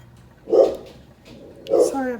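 A dog indoors gives two loud, separate barks about a second apart, heard close by during a glitter and Mod Podge tumbler craft session.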